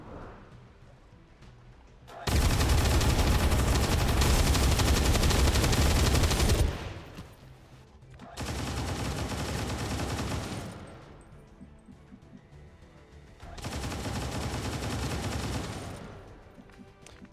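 Three long bursts of automatic gunfire in the video game XCOM 2 with the Long War 2 mod, the first loudest and longest, each a dense sustained rattle separated by quieter gaps.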